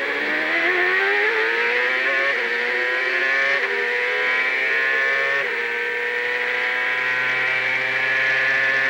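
A race car engine heard onboard at a hairpin during the 2002 Molson Indy Montreal, loud and continuous, its pitch climbing and dropping sharply with several quick gear changes and downshifts.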